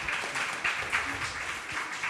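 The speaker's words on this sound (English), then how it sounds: "Y'all give another round of applause for our panel." A conference audience gives a panel a round of applause at a Freedom Summer 60th anniversary event, steady dense clapping filling the short stretch at moderate level with no voices.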